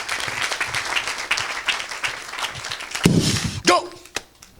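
A church congregation applauding and cheering the Lord during a deliverance service, steady crowd clapping with a voice over it, ending in a few loud thuds.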